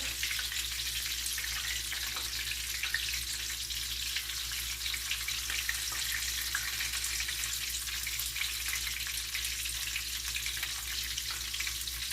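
Pieces of food fry in a pan over medium heat, a loud, dense, continuous sizzle and crackle close up that holds steady throughout without any talking.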